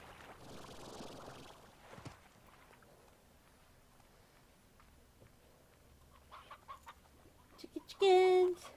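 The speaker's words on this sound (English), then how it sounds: "Chickens!" Chickens in the video game Slime Rancher give a short, loud burst of clucking near the end, after a long stretch of quiet ambience with scattered faint sounds.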